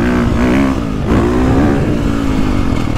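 A 2022.5 KTM 450 Factory Edition dirt bike lugs and pulls in third gear, its single-cylinder engine loud and close with a dip in pitch before climbing steadily again.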